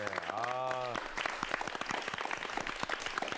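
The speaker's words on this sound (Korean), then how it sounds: "박수 부탁드릴게요." After a voice finishes speaking, an audience at a lecture on virtual reality breaks into fairly faint, steady clapping that continues to the end.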